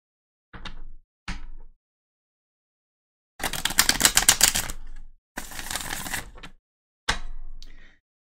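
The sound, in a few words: shuffling a deck of tarot cards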